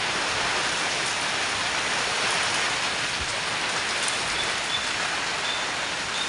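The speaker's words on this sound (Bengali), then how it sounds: "আজকে তাও একটু বৃষ্টি দিচ্ছে।" Steady rain pours down during a stormy monsoon day, a dense, loud and unbroken hiss with no talking.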